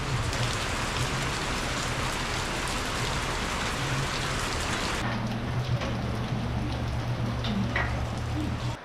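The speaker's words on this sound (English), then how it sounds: "It's absolutely torrential rain." Torrential rain pours down on a two-storey house renovation site, a loud, steady hiss of drops on surfaces that runs unbroken from start to finish, with a low rumble beneath it.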